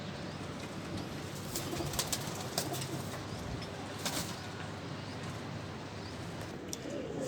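A female pure Teddy pigeon of the Ch. Sakhi bloodline coos softly nearby, low repeated murmurs with occasional wing flutters and faint chirps from other birds in the background.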